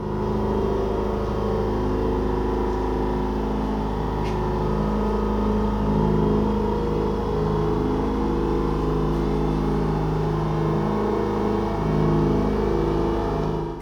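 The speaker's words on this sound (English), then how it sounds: "It has speakers somewhere on the outside that emit a sound sort of similar to what you'd have in a gas-powered car idling." Simulated engine idle rumble played through the exterior speakers of a 2025 Mercedes-Benz G580 electric G-Wagen, a steady low droning hum with layered tones that holds evenly and loudly for the whole stretch, with no talk.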